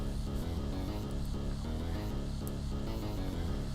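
Chiptune bass taken from the Journey to Silius game's extra sound chip, a busy, steady buzzy low pattern repeating in quick notes, continuous and fairly quiet throughout with no voices.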